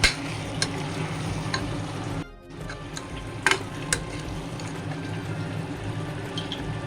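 Gongura mutton masala sautés in oil in a pan, a close, steady sizzle with periodic scraping stir strokes and brief clinks, heard alone without talking.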